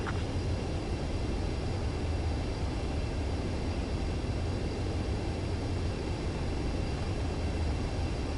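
Jet aircraft approaching a runway to land in Ace Combat 7, a steady, loud engine roar with a broad hiss that holds unchanged throughout.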